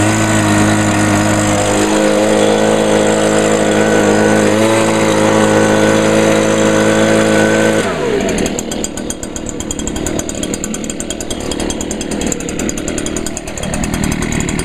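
A backpack leaf blower engine, an Echo PB 251 or Stihl BG 86, runs loud and close at a steady held speed with a tonal drone, then drops abruptly to a rougher, buzzing lower pitch partway through.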